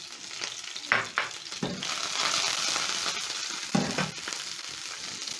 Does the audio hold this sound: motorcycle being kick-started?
no